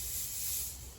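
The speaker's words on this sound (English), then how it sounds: "that is the sound of a fog machine going off" A fog machine spraying fog at a Halloween haunt walk-through: a steady, bright hiss that lasts the full second, moderately loud with no voices.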